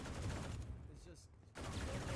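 Bursts of automatic gunfire from an Odin machine gun in Valorant, loud rapid fire that cuts out briefly in the middle and then resumes.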